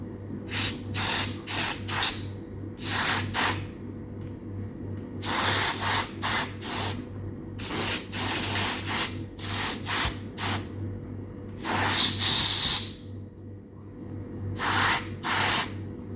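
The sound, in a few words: spraying oven cleaner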